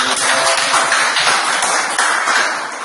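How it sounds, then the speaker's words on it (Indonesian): Loud, close applause from a crowd at a school ceremony honoring provincial student competition winners, dense and continuous clapping that tapers a little at the end. "tepuk tangan"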